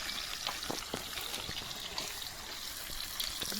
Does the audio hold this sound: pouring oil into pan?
yes